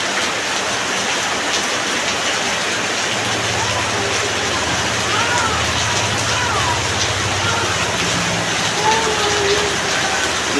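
Steady heavy rain pours down on a dark morning after days of downpour, a dense hiss throughout with a low rumble midway and a person talking faintly underneath.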